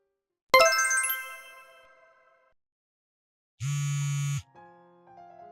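A phone ringing: a bright metallic chime rings out and fades, then after a pause a loud, steady electronic ring tone buzzes briefly, followed by quieter held tones.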